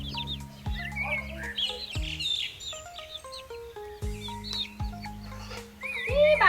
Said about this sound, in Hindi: ये आए चूजे चूजे चूजे चूजे